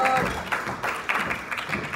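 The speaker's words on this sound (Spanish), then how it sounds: "Fuerte aplauso para ella." A crowd claps for a cast member being introduced at a telenovela cast presentation; the clapping is moderately loud and uneven, with bursts coming in rough waves over a couple of seconds.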